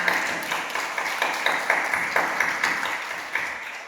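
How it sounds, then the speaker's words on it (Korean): A church congregation claps together in praise during a worship service, a dense, lively patter of many hands with sharp bursts throughout. "이 시간 하나님께 영광의 박수로 올려드리겠습니다"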